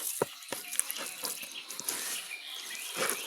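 Water is poured from a tap or jug into a bowl of roti dough, a soft running trickle with a few splashes and drips, close but fairly faint.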